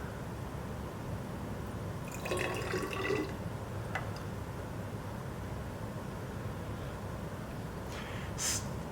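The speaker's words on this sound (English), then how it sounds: "And then I'm going to pour the liquid" Liquid being poured into a graduated cylinder in a lab, a soft trickling splash that rises for a moment then settles into faint steady noise, with a small clink near the end.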